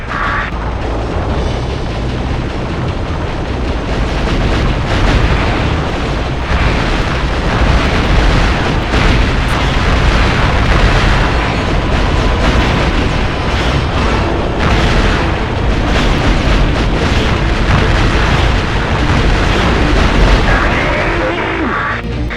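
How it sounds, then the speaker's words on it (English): Missile explosions in the PlayStation game Future Cop: L.A.P.D. form a dense, continuous roar of booms and bursts, loud and unbroken throughout with no clear gaps. "You're too late to stop my missiles."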